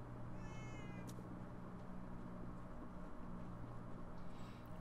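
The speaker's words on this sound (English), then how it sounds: "Why do I hear cats?" Cats meow faintly in the Minecraft Story Mode video game, with two short wavering meows, one near the start and one near the end, over a steady low hum of game ambience.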